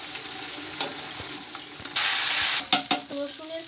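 Garlic and ginger paste sizzles loudly in a hot pan while a spatula stirs and scrapes it, with a burst of steady hiss in the middle and scattered clicks and knocks around it.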